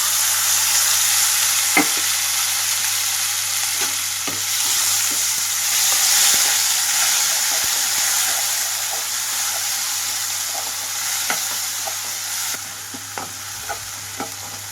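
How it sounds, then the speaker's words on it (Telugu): Tomatoes fry over a medium flame in a pan with turmeric for pepper rasam, giving a continuous sizzle and hiss punctuated by occasional stirring clicks and scrapes. "రెండు నిమిషాల పాటు టమాటో ఇలా వేగనిస్తున్నాను మీడియం ఫ్లేమ్లోనే ఉంచి"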